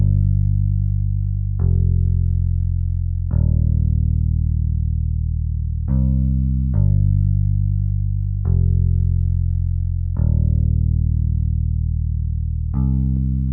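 A clean, dry synth bass guitar plays a slow line of deep sustained notes, each ringing out before the next, with no voices.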